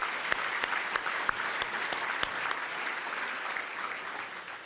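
Steady audience applause at a county government address, a dense wash of many hands clapping at moderate distance with a few sharper individual claps near the start, holding evenly throughout.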